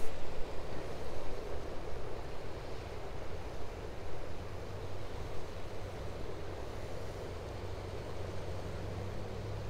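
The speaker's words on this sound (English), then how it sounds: "Oh, there's a weir. That's what that sound's coming from." Continuous roar of water pouring over a weir beneath a park bridge in late-winter thaw, beside ice-covered water, a broad steady rush with wind buffeting and a low hum throughout.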